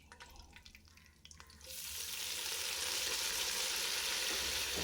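Mint and coriander leaves dropped into hot oil for vegetable biryani, a loud, steady sizzle that swells after a few quiet clinks and stays close and continuous with no talk.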